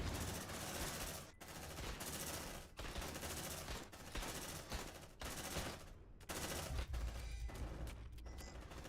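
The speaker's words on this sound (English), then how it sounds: "I didn't realize those fuckers were shooting at us" Enemy gunfire in Aliens: Dark Descent, a sci-fi tactical game, crackles in rapid bursts that keep stopping and starting. The volleys are dense but fairly quiet and come with no voices.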